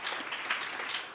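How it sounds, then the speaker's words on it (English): Audience applause at a live LGBTQ+ networks event, a dense, steady wash of clapping for about a second, moderately loud and heard alone. "please give yourself a round of applause to be here today"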